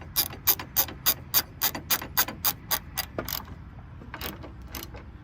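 Ratchet tightening a bolt on a Dee Zee tailgate assist, a quick run of about a dozen sharp clicks close up, then a pause and a few slower clicks.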